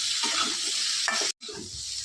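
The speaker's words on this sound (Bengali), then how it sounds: "কুয়াশগুলো সঙ্গে দিয়ে দেবো একসঙ্গে ভেজে নেব" Squash and potato pieces frying together in oil in a pan, a steady close sizzle with stirring, briefly cut off by a short silent gap before the crackle resumes.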